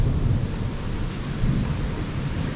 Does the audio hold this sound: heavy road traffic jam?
no